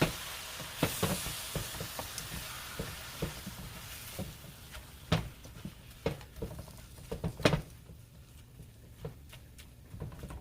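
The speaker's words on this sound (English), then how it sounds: "I'm going to give it a little stir." Chicken and spinach stew stirred in a pot with a spoon, giving irregular soft scrapes and taps over a faint low simmering sizzle, fairly quiet and close, no talking.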